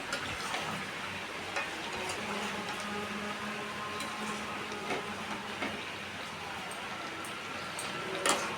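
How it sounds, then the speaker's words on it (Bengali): Chicken curry with potatoes stirred in a pot, producing a steady moderate bubbling sizzle with repeated light scraping and clattering strokes of a spoon against the pot. "নেড়ে চেড়ে দেখে নিব আলু আর মাংসগুলো নরম হয়েছে কিনা"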